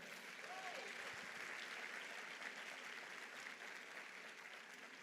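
A church congregation applauds steadily, a dense wash of many hands clapping at a fairly distant, even level with a faint voice at the start.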